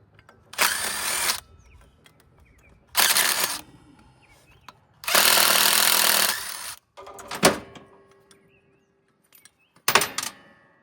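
A power tool zips bolts out of scrap metal to get at copper, in several separate loud bursts of whirring lasting one to two seconds each. Quiet gaps fall between them, and a couple of short metallic clanks come near the end.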